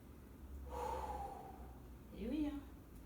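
A woman breathes hard during a core workout on an exercise mat, giving a long audible exhale followed by a sharper gasping breath, close and fairly quiet with no words spoken.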